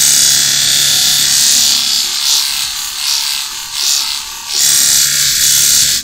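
A blade is lapped back and forth on a Hira-To flat plate to remove the burr, giving a steady, close, loud abrasive scraping with rhythmic stroke swells and no talking.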